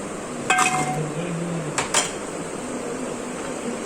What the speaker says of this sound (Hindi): भगोना हमने ले लिया है। अब हम इसमें ऐड आलू करेंगे।